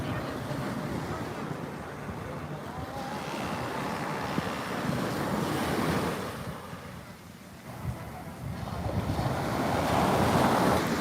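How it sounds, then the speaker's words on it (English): Choppy ocean waves breaking on a beach near Sanibel Island at sunset, a continuous rolling surf that swells and eases, with gusts of wind buffeting the microphone. "we got some choppy waves"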